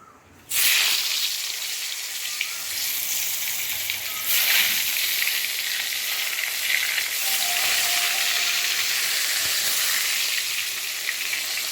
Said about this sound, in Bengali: তেল আর আমি এখানটা বেগুন ভাজবো খিচুড়ি হয়ে গেছে তেলটা প্রচণ্ড গরম